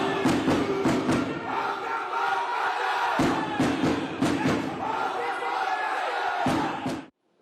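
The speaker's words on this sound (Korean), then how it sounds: "이들을 맞이한 건 북소리와 야유였습니다." Angry football fans crowd the Incheon Airport arrivals hall before dawn, booing and shouting as drums thump in repeated heavy beats, a loud, dense crowd roar that carries on throughout.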